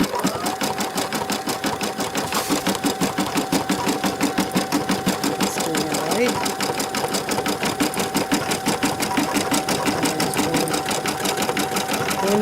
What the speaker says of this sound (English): So I'm going to stitch the feet now. I just need to press the green button. That should stitch out pretty quick.